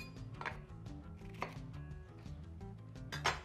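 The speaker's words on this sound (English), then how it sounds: "So we're going to cut them into big chunks" Courgettes are cut into big chunks with a knife on a board: three distinct chopping strikes land about a second apart, close and fairly clear over low background music.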